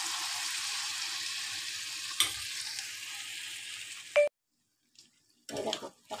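Pakoras deep-fry in hot oil in a home kitchen, a close, steady bubbling sizzle with a couple of sharp clinks, then a sudden cutoff into silence followed by brief stirring and clattering noise.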